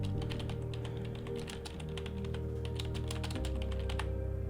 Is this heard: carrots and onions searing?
no